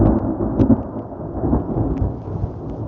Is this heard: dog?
no